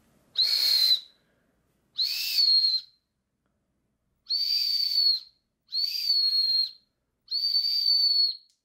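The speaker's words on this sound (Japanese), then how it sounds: "ホイッスルとして使うこともできます" Five shrill, piercing blasts from a survival ballpoint pen's built-in whistle, each about a second long, loud and close with short pauses between them.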